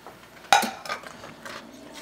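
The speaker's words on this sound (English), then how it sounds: "Now we're just gonna start stirring that up." A metal utensil clanks once against a pot, then a soft wet stirring follows as cheese, including Gouda, is worked into a gooey mac and cheese for a Southern-style holiday side dish. The sound is close and brief, with no voices.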